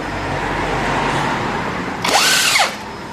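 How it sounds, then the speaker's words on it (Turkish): Background engine hum, then a cordless drill briefly spins up and winds down in one short burst near the end, unscrewing screws on a Honda Forza 250 scooter. "Bizde matkap olduğu için daha pratik oluyor"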